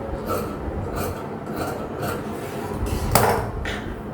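Scissors trimming fabric for a half circle maxi dress with princess cut, making a steady series of rasping cuts about every half second, ending with a sharper snip, close up and with no talking.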